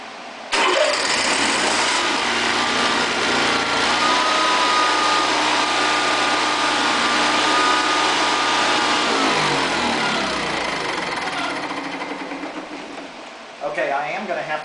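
A Honda EV6010 generator engine starts and runs steadily at a loud, close drone with its carburetor float bowl vent hose fitted, surging slightly from a lean condition before the sound tapers near the end.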